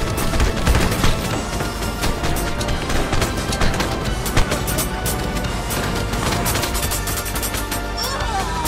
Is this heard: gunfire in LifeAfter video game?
yes